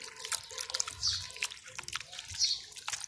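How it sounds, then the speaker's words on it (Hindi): Wet, squelchy sloshing and dripping as flour is mixed into liquid by hand to make chicken feed, with close irregular splashes and trickles at a moderate level. "आपने मिक्स कर देना आटा"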